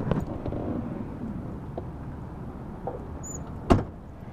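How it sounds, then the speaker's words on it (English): A car door opens and then shuts with a single sharp thud near the end, preceded by soft rustling and faint clicks against a low street rumble. "You shut the door."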